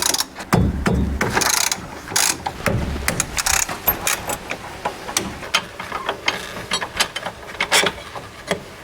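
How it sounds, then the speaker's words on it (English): A ratchet undoing 15mm brake caliper bolts on a B-series Ford Falcon, bursts of rapid clicking followed by a run of sharp individual clicks, close up with no talk. "to undo this caliper, we're going to need to undo two bolts"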